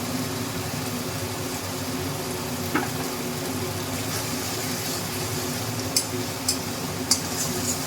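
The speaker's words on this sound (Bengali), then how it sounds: "আমি জল দিয়ে দিচ্ছি অল্প জল দিচ্ছি যাতে মশলাটা পুড়ে নেয়" A little water hits spices frying in a pan for an aloo soybean curry, giving a steady low sizzle with occasional faint clicks and taps of utensils, fairly quiet and continuous.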